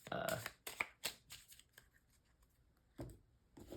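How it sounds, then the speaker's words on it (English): Crisp riffling card shuffles in several quick bursts, close to the mic, with short quiet gaps between them. "I'm gonna talk and shuffle"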